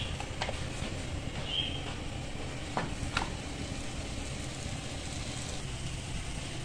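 A paratha cooks on a hot tawa with a soft, steady sizzle, close and quiet, broken by a few light clicks and taps.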